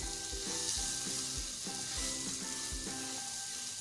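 Vermicelli cooking in a little milk in a pan over a low flame, a steady bubbling sizzle with soft regular scrapes of stirring, close up and continuous with no talking.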